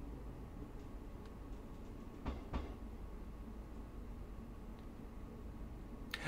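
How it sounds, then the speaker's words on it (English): Steady low rumble of a train interior in Train Sim World 2 on the Cathcart Circle, with a couple of sharp clanks as the wheels cross points, all fairly quiet. "I love those sounds as you come over the points"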